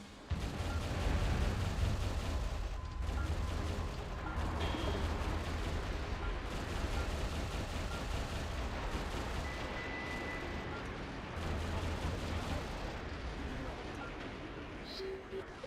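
Rapid bursts of projectile fire and heavy explosive booms from a mech combat video game, loud and dense, rolling almost continuously with brief lulls, one voice speaking faintly beneath.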